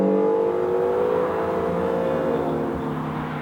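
A 2017 Acura NSX hybrid supercar drives and accelerates with a loud, steady engine roar and rising whine that holds throughout, close and alone without talk.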